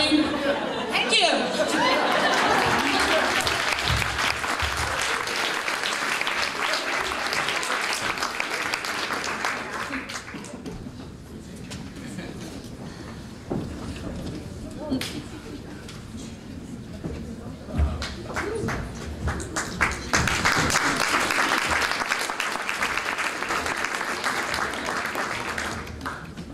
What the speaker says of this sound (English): I should stop on a high note when people are clapping